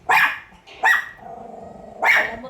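A dog barks three times at close range, loud sharp deep barks spaced irregularly with a low growl between them and no talking.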